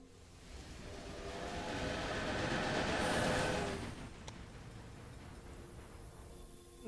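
A rumbling train in the video game Railway Empire passes, swelling to a peak and then easing off into a softer steady rattle, with a sharp click near the end.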